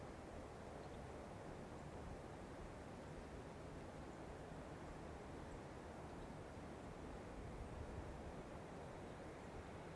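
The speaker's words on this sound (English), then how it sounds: "you can be aware of the background sounds of the meditation, the bird song, the wind and the ocean waves" Ocean waves and wind make a steady, even wash of broadband noise in the background of a meditation, soft and continuous for the whole stretch with no voices.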